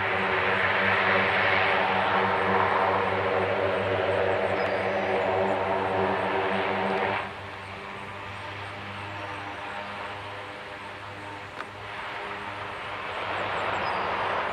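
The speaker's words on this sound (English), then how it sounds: "I don't think I've been up this close to a C-130." A C-130 J-Series transport aircraft at Milwaukee's General Mitchell airport, its loud steady propeller drone close by, dropping noticeably midway and then swelling again.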